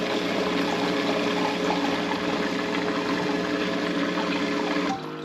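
A Capsule countertop dishwasher running a fruit washing cycle drains water, a steady, loud rushing and gurgling flow that holds for about five seconds before cutting off abruptly.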